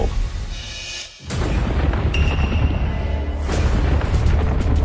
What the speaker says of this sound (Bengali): মনে হচ্ছে যেন ভূমিকম্প এসেছে। চারিদিক কেমন কাঁপছে দেখো, মাটিতে ফাটল ধরছে।